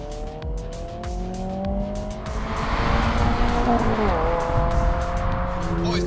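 A 2022 Honda Civic Si and a Toyota GR86 accelerate hard from 30 mph in a roll race, engines rising through the revs with a shift partway through. The sound is heard from inside the car, loud and steady, with no talk.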